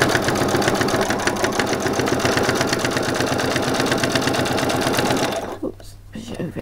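A sewing machine stitches through soft Velcro with a steady, rapid mechanical chatter close to the mic, then slows and stops near the end.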